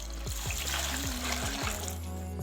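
Two glasses of water poured into a blender jar with crushed ice and peaches for a peach sharbat, a steady close trickle and splash running throughout with no talk.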